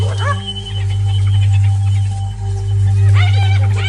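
African wild dogs confront a hyena in the wild, giving off high yips and squeaky whimpering calls over a steady low rumble, loud and close, with bursts of calls at the start and end.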